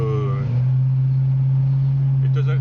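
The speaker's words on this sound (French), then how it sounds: "Bien sûr le bruit du moteur, on entend bien, l'échappement disons en particulier, hein, qui est joli et fort à la fois." A 1956 Chevrolet pickup's engine and exhaust, heard from inside the cab, hold a steady low rumbling hum, with a voice briefly at the start and near the end.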